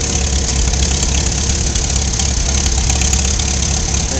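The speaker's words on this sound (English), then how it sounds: "Now I gotta get the engine fired up." An engine runs steadily on a 1946 New Holland model 76 baler in a field, a loud, close, continuous rough chugging drone with a knocking beat and no pauses.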